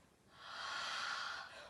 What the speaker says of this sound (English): Take a little sniff